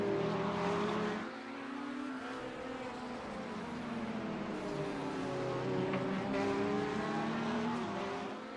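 GT3 race cars, including a Corvette, racing on a Detroit track through lap traffic, a loud continuous engine roar with shifting rising and falling pitches as cars pass close by.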